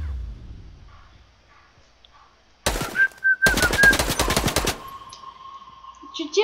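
In-game gunfire in a Fortnite prop hunt match arrives as a sudden loud burst of rapid automatic shots, then a second dense rattling volley, with quiet game ambience and faint tones around it.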